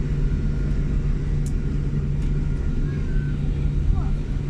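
A steady low cabin rumble with a constant engine hum fills an airplane just after landing at London Heathrow airport, with faint scattered background sounds.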